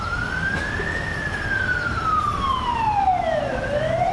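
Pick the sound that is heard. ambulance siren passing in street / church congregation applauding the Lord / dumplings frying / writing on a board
ambulance siren passing in street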